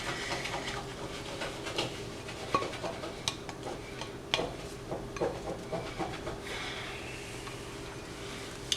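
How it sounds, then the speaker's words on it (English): Rubber spatula scraping vegan strawberry shortcake icing out of a bowl, giving soft repeated rubbing and scraping strokes with occasional light clinks, steady and close throughout. "I'm using my rubber spatula to get all the icing out of this."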